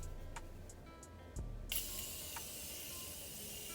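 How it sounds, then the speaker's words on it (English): A few quiet clicks, then a sharp hissing spray of Morphe makeup setting spray misted onto a face bursts out and trails off into a soft lingering mist. "now I'm gonna take my Morphe setting spray and I'm gonna spray my face"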